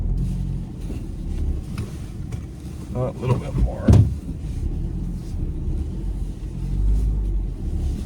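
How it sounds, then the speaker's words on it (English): A Mazda car's engine rumbles low and steady while being steered into a snowbank to park at a curb, a brief swell of revving near the middle, with someone speaking briefly over it. "I've got to literally steer the Mazda into a snowbank."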